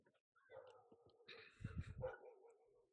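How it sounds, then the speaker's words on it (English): Several neighborhood dogs barking, yipping and whining outside, heard faintly through an open window, with overlapping bursts that swell in the middle and then trail off. "window's open. Every fucking dog in the neighborhood's barking"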